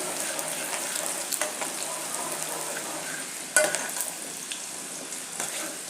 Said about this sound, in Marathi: कांदा व्यवस्थित फ्राय करून घ्यायचा आहे कांदा गुलाबी रंगावर येईपर्यंत भाजायचा आहे